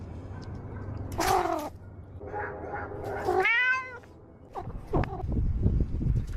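Cats meow repeatedly and close by. One loud cry is followed by a few shorter mews and a long, wavering caterwaul, then rustling and knocking, with no talking.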